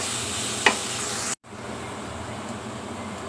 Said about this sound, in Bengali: তো এখানে আমি পেঁয়াজ দিয়ে দিচ্ছি, কাঁচামরিচ। তো পেঁয়াজটা আমি একটু বাদামি কালার করে নেব।